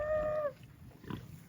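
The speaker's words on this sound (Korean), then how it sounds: "돼지 소리가 너무 웃겨" A pig lets out a short, high squeal followed by a brief low grunt, both fairly faint, with a quiet pause between them and no talking.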